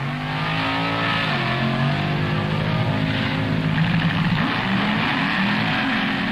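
A 1965 Top Fuel dragster roars down the strip at an NHRA national event, a loud continuous engine blare with shifting harmonic tones, heard up close without any voices.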